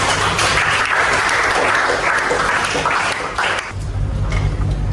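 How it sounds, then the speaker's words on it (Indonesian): A classroom group bursts into sustained applause, loud dense clapping filling nearly five seconds and thinning slightly toward the end with a low murmur beneath. "Beri applause kepada kalian."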